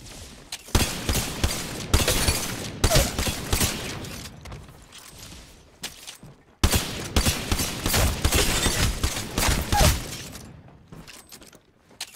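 Mozambique shotgun in Apex Legends firing in two bursts of repeated loud blasts, each shot sharp and close, with brief gaps between the volleys and a quieter stretch in the middle.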